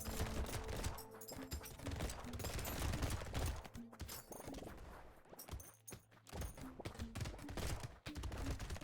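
Harpoon gun fire in the video game Brotato, a dense, loud stream of rapid shots and impacts layered with game effects, continuing without pause and with no talking.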